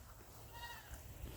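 On a goat farm, a goat gives a short, wavering bleat over a low, constant background rumble.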